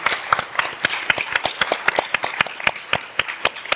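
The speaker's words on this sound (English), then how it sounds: "Please, a big round of applause for the panel." An audience at a film, theater and creative business summit claps for the panel, with distinct sharp hand claps from a modest crowd, loud and close, in an uneven rapid patter.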